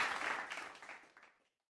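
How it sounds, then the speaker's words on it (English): Quiet applause during a FIFA World Cup watch-along livestream, a soft patter of clapping that thins out and fades to silence after about a second and a half. "Clap it up for NS Edits and also clap it up for everyone else that has made 3 streams out of 3."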